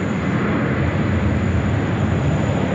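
A Qantas A321XLR airliner taxis at Sydney Airport, its engines giving a steady, continuous broadband roar that holds level and fairly loud throughout, with no voices over it.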